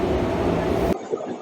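Loud subway train roar and rumble carried over a phone call made with cheap open-fit wireless earbuds, filling the line for about a second before cutting off abruptly into near silence.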